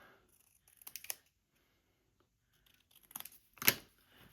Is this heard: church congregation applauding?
no